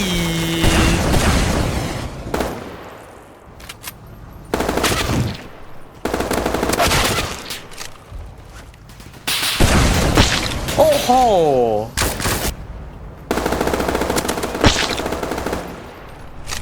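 Bursts of rapid automatic gunfire in a Roblox war game rattle loudly in several long volleys separated by short pauses, with a whooshing sweep and a voice mixed in.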